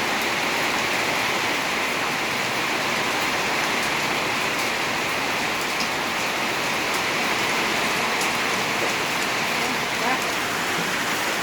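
Steady rain falls during a storm in Thailand, a dense, even hiss of drops hitting surfaces that continues without a break.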